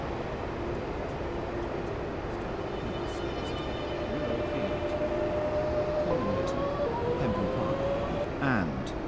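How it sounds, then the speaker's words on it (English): A train in the video game Stepford County Railway rumbles along steadily with a constant broad roar, while a rising tone and a short horn-like sound appear near the end. "This train is now approaching Beechley."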